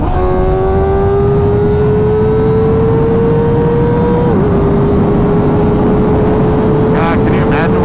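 A Kawasaki ZX4RR motorcycle engine screams at high revs on a back-road speed run, a loud steady rising whine with a brief dip near the middle, over heavy wind rush, then a quick blip near the end.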